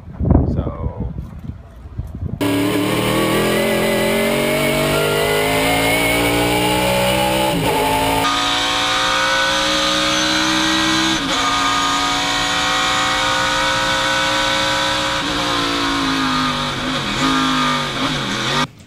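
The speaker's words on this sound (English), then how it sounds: "Race car noises." A race car driving on the track at Mid-Ohio, the engine screaming at high revs with gear changes and pitch sweeps after a quieter start, loud and sustained.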